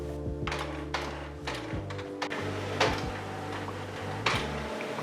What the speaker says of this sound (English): It takes some minutes until the printer is ready, as the ink needs to fill up the system.